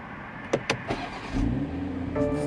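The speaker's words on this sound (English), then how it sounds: "we're going to go ahead and start the car up" A BMW X3 M40i starts up: a few sharp clicks and a brief whir from the starter, then the engine catches into a steady, close idle rumble that holds to the end.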